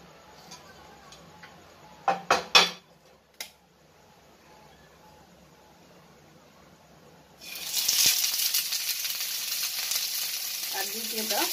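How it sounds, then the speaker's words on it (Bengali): A little oil heats in a nonstick pan for prawn paturi: a few sharp clicks and taps early on, then a loud, close hiss of sizzling rises midway and continues steadily to the end, with no voices. "ননস্টিক প্যানটা বসিয়ে দিয়েছি, দিচ্ছি একটু তেল।"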